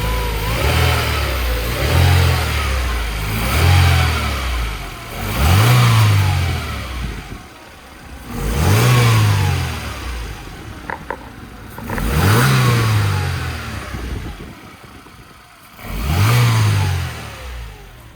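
A Mercedes-Benz W202 C180 Esprit engine revs repeatedly through its exhaust, about six rising-and-falling swells with short dips back toward idle between them, loud and close, with no talk.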